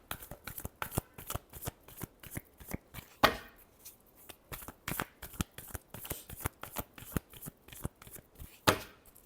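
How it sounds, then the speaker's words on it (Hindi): Tarot cards riffled and shuffled in a rapid run of crisp, papery bursts, close and fairly loud, with a couple of heavier bridging riffles standing out. "Last shuffle."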